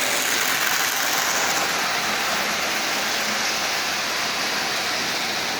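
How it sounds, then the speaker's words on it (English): A Lionel 8042 model locomotive runs at half power pulling 16 Lionel cars, producing a dense, steady whirring rush of motor and wheel noise that stays loud and even throughout, with no voices. "But the locomotive is running splendidly."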